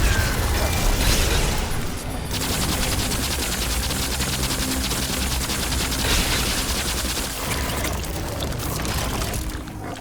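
Rapid gunfire with increased fire rate in The Darkest Remnant II video game, a dense continuous stream of shots, loud and close, lasting nearly the whole stretch with no talk.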